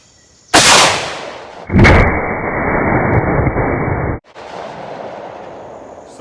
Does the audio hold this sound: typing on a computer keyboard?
no